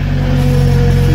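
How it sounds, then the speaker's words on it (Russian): A UAZ off-road vehicle's engine runs steadily up close, a loud, continuous mid-pitched drone with no pauses and no talking. "Так, мегауаз четко заводится."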